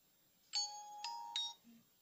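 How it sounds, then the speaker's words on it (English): A Junsun K88H smartwatch alarm tone plays three bright electronic chime notes in quick succession, clear and close, followed by a short low blip, with no talking. "you can choose the alarm tone."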